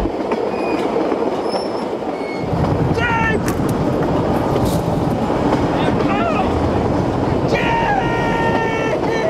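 A train runs steadily on rails, its loud rumbling clatter and rhythmic wheel noise filling the whole stretch with occasional high wheel squeals, and a voice speaks briefly over it.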